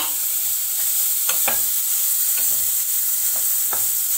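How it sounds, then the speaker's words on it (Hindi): Khoa (mawa) cooking in a pan for til laddus, a steady soft sizzle with several light scraping stirs of the spoon spaced irregularly, close and without talk. "अब हम खोए को भी थोड़ा पका लेते हैं।"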